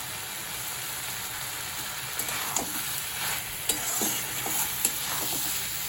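Green chillies go into Malabar spinach frying in a pan, with a steady, close sizzle throughout and a few light stirring clicks and crackles in the second half.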